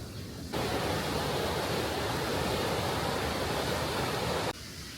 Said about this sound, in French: on suit une rivière qui s'appelle la Drance d'Entremont